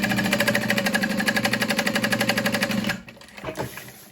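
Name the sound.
sewing machine top stitching, needs oil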